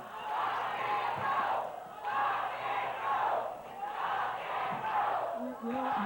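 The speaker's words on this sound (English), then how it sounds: "Absolutely, the crowd has lost their mind." A wrestling arena crowd chants in loud rhythmic bursts, three swelling waves of massed voices with brief dips between, accompanied by low thumps, close and intense.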